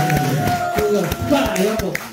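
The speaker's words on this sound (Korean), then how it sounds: "다시 한번 큰 박수" Scattered hand claps from an audience at a small-business news reporters' team gathering, sharp and spaced rather than a full ovation, mixed with steady talk and a sustained tone in the room.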